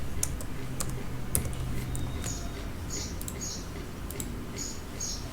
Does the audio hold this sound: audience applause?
no